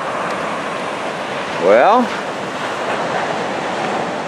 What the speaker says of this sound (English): waves like these little crumblers on the shore